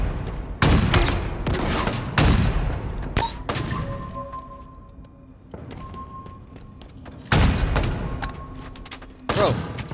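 Halo Infinite match with bursts of gunfire and explosive blasts, several loud clustered volleys separated by quieter stretches of faint weapon hum, with no voices over it.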